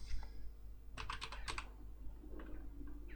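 Fast clacking keystrokes on a computer keyboard, a quick burst of several taps followed by a few scattered presses, close and clear over a steady low hum.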